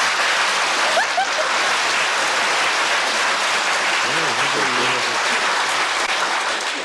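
A studio audience on a 1970s American TV panel game show applauding, a loud, continuous wash of clapping sustained throughout, with faint voices briefly audible underneath.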